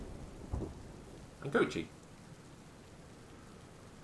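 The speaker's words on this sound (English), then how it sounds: "even though I can hear rain... Oh no, I do see rain on my screen" Rain and thunder in the video game This is the Police: a faint steady patter of rain with a couple of soft rumbling bursts, partly under a brief spoken voice.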